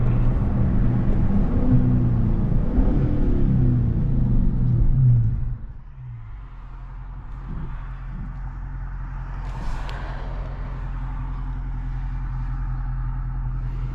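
A Dodge Charger Scat Pack 392 with manual transmission idles with a deep, steady exhaust rumble, heard with windows down, loud and revving briefly at first before settling into a low, continuous burble.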